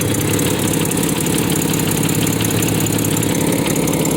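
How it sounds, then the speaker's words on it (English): A 1993 Nissan Pathfinder with 205k miles and a five-speed, its engine idling steadily up close, a loud, even mechanical hum with a fine rhythmic pulse and no break, with no one talking. "It's just a smooth sounding engine."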